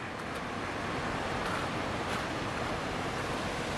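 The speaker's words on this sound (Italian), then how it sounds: "Il fiume Krka! Qui c'è un vecchio mulino che gira." Water of the Krka river rushes past an old turning mill, a loud, dense, continuous roar of flowing water close by that stays unbroken and even throughout.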